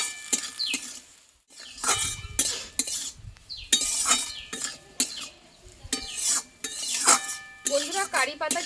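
Curry leaves and chopped coriander frying and being stirred in a pan, with repeated loud metal spatula scrapes and clinks in irregular bursts, separated by brief quieter gaps of soft sizzling.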